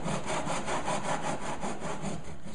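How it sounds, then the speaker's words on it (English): A hand saw cuts into MDF board in a design technology workshop, with steady, rhythmic back-and-forth rasping strokes, close and continuous, with no talking. "Start by cutting on an angle to get into the MDF, and then once it's in, I can straighten the blade up"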